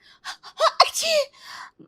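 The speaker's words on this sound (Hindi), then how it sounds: "छींकने की एक्टिंग करती है" A woman fakes a sneeze indoors, pretending to have a bad cold, with a short gasping intake followed by a loud voiced burst and a trailing exhale, close and alone.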